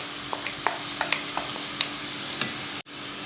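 Minced meat dropped into melted butter in a pan gives a steady close sizzle with light stirring scrapes and small pops, then a brief cut near the end.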